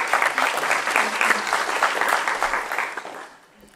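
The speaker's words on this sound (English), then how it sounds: "you can definitely clap that" A conference audience at the World Congress in Lunteren, 2013, breaks into dense, lively applause for speaker Katherine Preston. The clapping stays full for about three seconds, then quickly tapers off.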